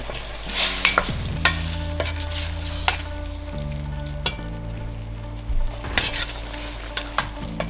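Pork intestine stir-fries in a hot pan for a blood stew, a constant sizzle with sharp scraping strokes of a utensil across the pan repeating every second or so, close and alone without talk.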